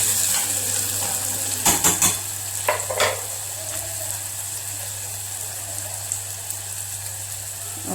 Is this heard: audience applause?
no